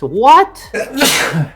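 A single loud sneeze bursts out close by, followed by a short spoken reply.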